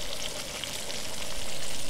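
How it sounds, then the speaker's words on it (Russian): Rain starting to fall at an overnight fishing camp, a steady dense patter with a broad hiss that builds slightly louder toward the end, with no voices. "Снова пошел дождь."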